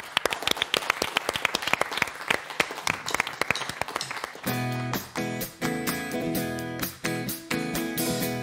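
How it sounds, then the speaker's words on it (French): An audience at a live French television show applauds, scattered claps at first that swell into dense, loud, sustained clapping. "On vous applaudit."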